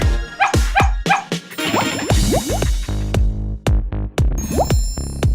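A small dog barks and yips repeatedly in short bursts, some calls rising in pitch, close and fairly loud.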